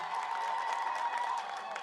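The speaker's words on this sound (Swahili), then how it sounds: "Tumpigie makofi tafadhali." A crowd at the Horn of Africa Gateway Development Project launch in Isiolo applauds the governor, a fairly distant, steady wash of clapping with some cheering mixed in, continuous for a couple of seconds.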